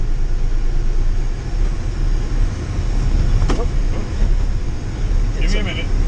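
A car with an automatic transmission driving, giving a constant loud low rumble of engine and road noise, with a couple of brief faint voices over it.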